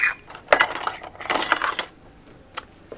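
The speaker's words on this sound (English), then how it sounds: "Well, I'll get a measuring spoon out" A metal measuring spoon clinks as it is pulled out in a kitchen, several bright jangling clicks in quick succession, then a fainter tap near the end.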